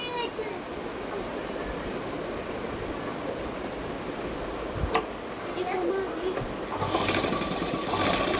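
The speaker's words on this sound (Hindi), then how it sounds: "उसके बाद यहाँ से सिलाई" A sewing machine stitching a palazzo with an elastic waistband runs as a steady, close, continuous whirring hum, with someone speaking faintly over it.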